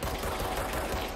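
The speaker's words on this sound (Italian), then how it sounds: "Dai, venite fuori, così vi sparo direttamente da qui." Rapid automatic gunfire in the video game Control, a dense continuous burst of loud shots filling the whole moment with no talk over it.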